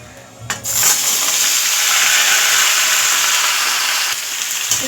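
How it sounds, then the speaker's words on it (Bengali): Mixed vegetables tipped all at once into hot oil seasoned with dried red chillies, a sharp clatter as they drop in, then a loud sustained sizzle filling the pan until it eases off near the end. "এবারে এর মধ্যে সমস্ত সবজিগুলো একসঙ্গেই আমি দিয়ে দিচ্ছি"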